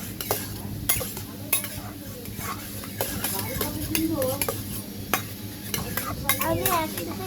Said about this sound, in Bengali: আমি একসাথে ভেজে নিচ্ছি, তেলটা গরম করছি